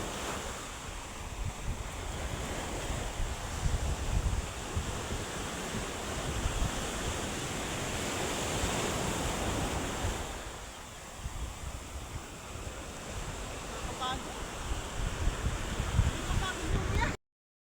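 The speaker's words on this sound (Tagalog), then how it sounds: "Yan guys, nandito na tayo sa ilog." Steady broadband rush of river water flowing, fairly close and continuous, with a dip partway through and faint voices toward the end.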